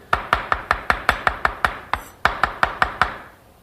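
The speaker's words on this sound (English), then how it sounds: "And then start chopping it up a little bit." A knife chops peeled garlic in a quick, even series of sharp close taps, about a dozen and a half strikes with one brief pause partway through.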